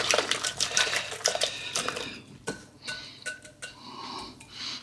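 Batter for toad in the hole whisked by hand in a bowl, a quick run of rhythmic clinking taps that stops briefly and then resumes as scattered, looser knocks.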